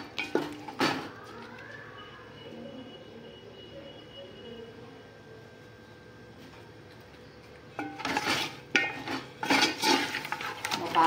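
Country chicken with masala spices is stirred in a metal pot, with scraping and clanking of a spoon on the vessel loudest at the start and in a busy stretch near the end, and a quiet hum between.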